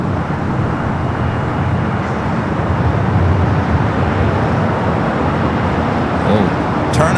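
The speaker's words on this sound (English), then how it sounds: "turn and burn for that Dreamliner. Now rolling down the 24 left." A Boeing 787 Dreamliner jet rolls for takeoff on runway 24 left at Los Angeles International Airport, a steady broadband engine roar that holds loud and constant throughout, heard from a distance with no voices.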